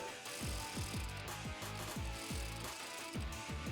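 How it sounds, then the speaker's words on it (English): A ratchet clicking in fast, steady bursts while tightening the intake hose clamps on a 2018-2020 Ford F150 2.7L EcoBoost during a cold air intake install, close and continuous, with no talking. "we can go ahead and tighten down those clamps with the final torque"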